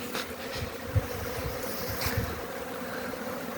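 Honeybees fly around the hives at an apiary on a mild winter day, a steady buzzing hum with a few louder passes close by, under light wind and no talk.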